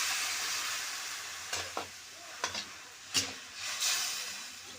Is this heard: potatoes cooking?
yes